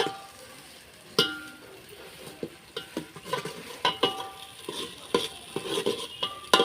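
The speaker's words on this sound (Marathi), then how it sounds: "आपल्या मसालेला अगदी तेल सुटेपर्यंत छान परतून घेतलेले" Black masala being stirred and sautéed in oil in a pan for a festival offering meal, with repeated scraping and clinking stir strokes over a low sizzle, close and fairly loud, no talk.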